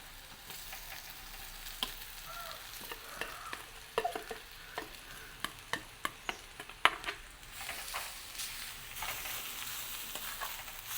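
Crushed sambal frying over low heat in a pan, a faint continuous sizzle with scattered sharp ticks and scrapes from stirring, quiet and close.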